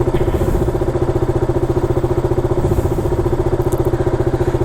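A 2016 KTM Duke 200 motorcycle engine idling as it warms up, a loud, close, steady single-cylinder thrum with an even pulsing beat throughout and no voices.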